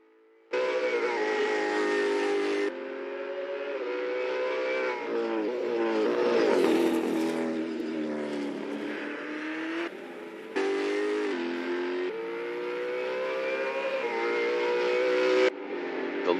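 Race cars in the Assetto Corsa sim roar at high revs, the engine note climbing and dropping through gear shifts in sustained, loud, close-up bursts with no talking.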